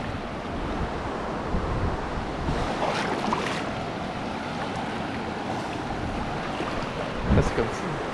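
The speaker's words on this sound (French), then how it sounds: "On passe au milieu de la rivière." River water rushes around someone wading across the middle of a river on Réunion Island, a dense, steady close wash of flowing water mixed with wind buffeting and a few louder splashes near the end.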